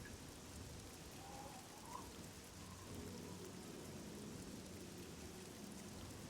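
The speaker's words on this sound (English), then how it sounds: "Listen to the rain as I talk." Steady rain in the video game Oblivion, a soft, constant hiss of falling water with faint distant rumbling beneath it, continuous and unbroken with no talk.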